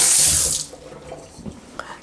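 Tap water runs briefly and loudly into a dog's water bowl, a bright splashing rush that fades after half a second into faint handling sounds.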